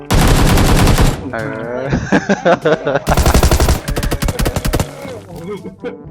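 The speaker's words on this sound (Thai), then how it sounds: "ได้ยินเสียงปืนแล้ววิ" Rapid bursts of automatic gunfire in the video game PUBG Lite crackle loudly in two long volleys, with a short spoken interjection and other game sounds between them.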